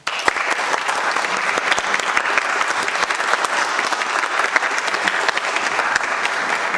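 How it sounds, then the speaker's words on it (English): An audience at a Farmers Branch city council meeting applauds a welcome, giving dense, steady clapping that continues throughout at a fairly loud, even level. "I think anybody's clapping louder than Archie."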